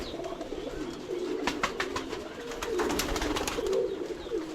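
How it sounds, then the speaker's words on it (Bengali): Old breeder pigeons coo in a flock, soft throaty warbles rising and falling continuously, close by, against a light outdoor background hiss. "তো আমার এখানে প্রায় 60 জোড়ার মতো কবিতর আছে"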